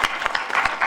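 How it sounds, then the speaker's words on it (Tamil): A short burst of audience applause at a village gathering, scattered hand claps rising and falling for about a second, fairly faint with no speech on top. "தம்பி முருகனுக்கு ஒரு கைதட்டு கொடுக்கலாம்."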